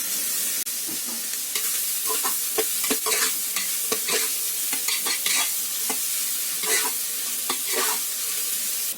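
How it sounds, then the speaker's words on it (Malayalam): Onions sautéing with salt in a pressure cooker for chicken biriyani, a close continuous sizzle broken by frequent scraping stirring strokes in an uneven rhythm, with no talking. "സവാള നല്ലവണ്ണം വഴറ്റിയെടുത്തിട്ടുണ്ട്."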